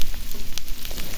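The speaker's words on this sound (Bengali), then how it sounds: "দেখুন পেঁয়াজটা ভাজতেছি, পেঁয়াজ ভাজা হলে আমি মাছটা দিয়ে দেব।" Onions frying in hot oil in a pan, a close, loud, continuous sizzle with crackling pops and no voices.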